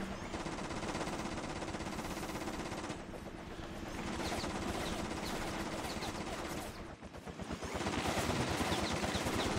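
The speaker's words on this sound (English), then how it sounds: "the helicopter keeps on shooting with its turrets" Helicopter turret gunfire in the video game inFAMOUS 2, long sustained bursts of rapid automatic shots layered over dense game noise, continuous and loud with a short dip midway.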